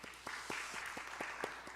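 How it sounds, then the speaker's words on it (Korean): Congregation applauding the worship team during a Sunday afternoon church service, a brief patch of scattered claps from a modest crowd, steady and fairly soft throughout. "우리 박수 한번 하겠습니다."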